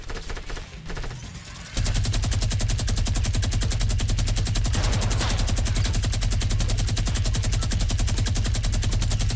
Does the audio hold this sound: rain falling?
no